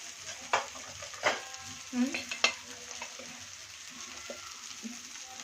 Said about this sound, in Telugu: శనిగింజల పొడి అంటే పల్లీల పొడి ఒక టూ స్పూన్స్ వేసుకొని బాగా మిక్స్ చేయాలి